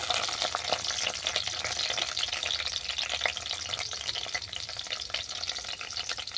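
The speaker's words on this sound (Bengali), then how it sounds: "এরপরে এই তেলের মধ্যেই আমি স্যালাডগুলোকে হালকা ফ্রাই করে নেব।" Salad vegetables such as red and green capsicum and radish frying lightly in oil, a dense, even hiss of sizzling with soft stirring scrapes, close and steady throughout.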